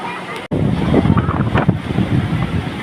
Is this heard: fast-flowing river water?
yes